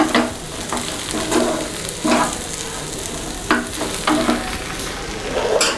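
Turmeric, garam masala, salt and chilli powder being mixed into a sizzling capsicum masala curry, with repeated spoon scrapes at an uneven pace over a constant frying hiss.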